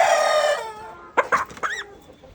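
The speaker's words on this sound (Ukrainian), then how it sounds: "Іспанка. Так. Цей, бачите, 4560, ну 4600, грубо говоря. Це такий середній петушок." A Spanish-breed rooster, a medium-sized cockerel on a poultry farm, gives a loud, close crow that is cut off, followed by a few short clucking calls.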